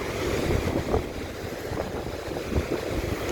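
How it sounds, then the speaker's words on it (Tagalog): Rough seaside surf and wind near a boat, a continuous low churning roar with occasional swells and buffeting gusts, steady and close, no voices. "Lakas ng dagat guys."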